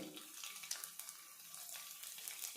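Oil and ingredients fry steadily in a pan before fenugreek leaves go in for a potato curry, a soft, continuous hiss and crackle held at low level throughout.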